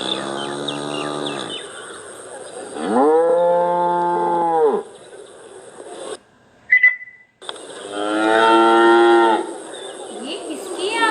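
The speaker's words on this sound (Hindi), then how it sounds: "चलो हम गाय की आवाज सुनते हैं।" Cows moo in long, deep, drawn-out calls, several in a row separated by brief gaps, loud and close with background noise around them.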